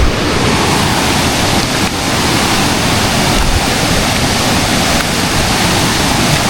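The clear water of the Bagsit River in Zambales rushes steadily, a loud, dense, unbroken wash close to the listener with no voices.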